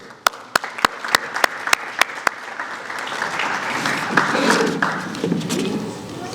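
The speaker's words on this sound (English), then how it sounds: "I want you to take a moment and give yourselves a round of applause for a second." An audience at a Horn Afric Foundation evening in Portland, Maine, claps for themselves: a few sharp, distinct claps at first, then swelling into a soft, fuller round of applause that continues to the end.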